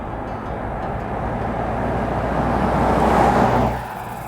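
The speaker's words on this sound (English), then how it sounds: "we're out on the road in the 4Runner" A 2025 Toyota 4Runner cruises along a road, giving a steady broadband road and engine rumble with tire noise that swells slightly toward the end, then eases off, with no talking.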